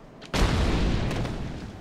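A sniper rifle shot in the video game Dark Souls 2: one sudden loud boom with a long rumbling tail that fades slowly, heard alone.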